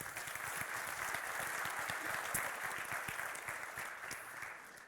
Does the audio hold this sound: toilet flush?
no